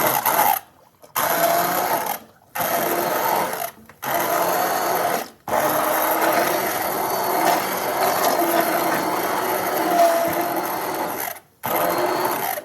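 A blender whirring through black bean soup in several bursts, loud steady motor drone cut by short pauses as it starts and stops.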